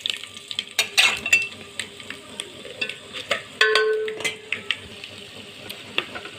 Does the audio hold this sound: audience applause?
no